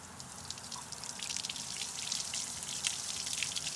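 Water from a hose feeding a 2021 Mercury 150 Pro XS outboard motor runs and spatters in a soft, steady hiss of drips and splashes, faint and with no voices.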